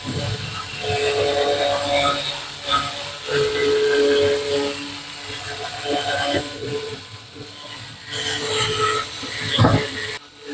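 A cleaning machine drives its largest brush through dirt with soapy water, making a close, wet hissing scrub that rises and falls in uneven strokes, with a few sharper swishes near the end.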